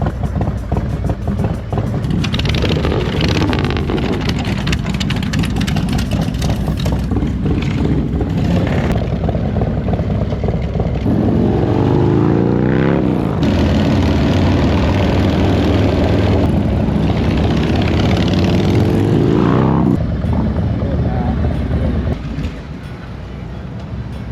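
A Harley-Davidson FXR motorcycle runs under way, a loud continuous engine roar with rising and falling revs and heavy wind rush, sustained for over twenty seconds and easing near the end.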